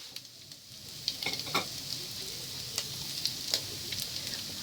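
Garlic fries with pork in a pan, giving a soft continuous sizzle broken by sharp pops and spatters. The sound is close and fairly quiet, and no one speaks.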